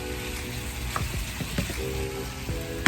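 Chicken strips sizzle steadily in butter in a pan, a close, continuous crackle and hiss with a few sharper pops and faint utensil clinks, no voices.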